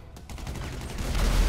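Gunfire in GTA 5 Online: rapid repeated shots blur into a dense, rising barrage, loud and close, with no talk over it.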